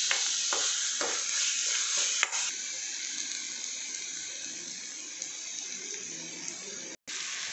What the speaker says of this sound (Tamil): அந்த 2 தக்காளியை அந்த இதுக்குள்ளே போட்டுருங்க